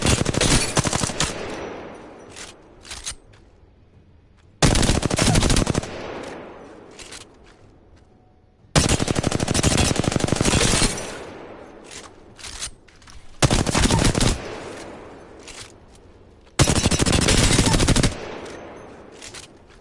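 R-301 rifle fire in Apex Legends, with five loud sustained bursts of rapid automatic shots separated by short pauses and trailing echoes.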